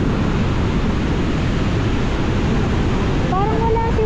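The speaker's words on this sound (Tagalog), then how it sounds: "Malakas ng current ng tubig oh." Strong river current rushes in a steady, loud broadband roar that holds constant throughout, with a faint brief tonal sound near the end.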